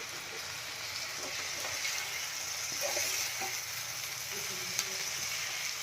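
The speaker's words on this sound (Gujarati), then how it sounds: "હવે આપણે બધું એકદમ સરસ મિક્સ કરી લેશું." Batata poha, flattened rice with potato, is gently stirred and mixed in a hot pan, a soft continuous sizzle with faint scraping touches, close and fairly quiet.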